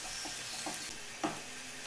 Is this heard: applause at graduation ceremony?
no